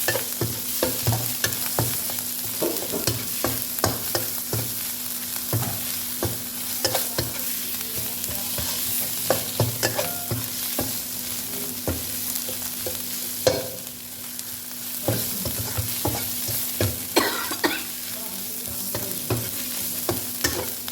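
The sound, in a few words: stir-frying pork with Thai curry paste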